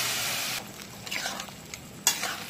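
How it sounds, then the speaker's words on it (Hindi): Boiled kidney beans (rajma) go into a pan of fried masala, with a brief hiss and sizzle followed by the scrape and stir of a spoon, close and moderately loud. "अब हम इसमें राजमा को डाल देंगे।"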